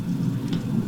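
Recorded rain with a thunderstorm played back in Audacity, a steady broad wash of rainfall with a low rumbling bed throughout, loud and continuous with no voices.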